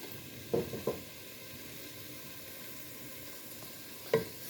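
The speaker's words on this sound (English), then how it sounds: "I'm gonna spread that oil in the bottom of the pot" Oil spread across the bottom of a hot pot while cooking chicken: a steady low sizzle throughout, with a few brief scraping strokes early on and one more near the end.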